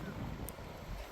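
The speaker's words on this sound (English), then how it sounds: "It's really windy today" Wind buffets a microphone outdoors on an allotment beside a greenhouse, a continuous low rumbling roar filling the short stretch, with a faint voice underneath.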